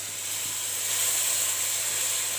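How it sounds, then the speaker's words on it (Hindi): A fish curry masala with tomato and yogurt sizzles in a pan over a slow flame, a steady bright hiss holding evenly throughout, close and alone. "इसके साथ दही डालकर हम अब अच्छे से इसको भून लेते हैं।"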